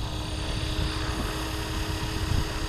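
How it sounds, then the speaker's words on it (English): A Blade Fusion 360 smart RC helicopter spools up for takeoff with a steady whirring rotor drone and a high motor whine, loud and continuous throughout, with no talking. "We are ready for takeoff."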